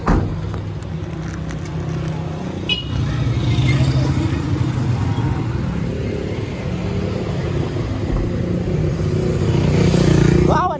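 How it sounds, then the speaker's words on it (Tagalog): A stream of motorized tricycles passing along a road, small engines droning and revving together in a constant loud rumble, with people talking over the traffic. "Wow, ang daming tricycle."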